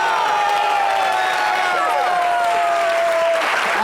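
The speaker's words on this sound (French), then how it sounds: "Mais applaudissez!" Studio audience applauding on an entertainment talk show, a steady wash of clapping with a faint crowd murmur, holding evenly across the whole stretch at a moderate level.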